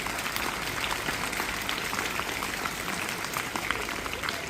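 Dense, continuous audience clapping at a convent school program, many hands at once filling the space evenly and loudly with no pause.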